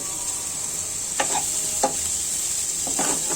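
Rohu fish roe frying in a pan, with a steady hiss of sizzling oil and a few distinct scrapes of a spatula stirring, close and clear with no talking.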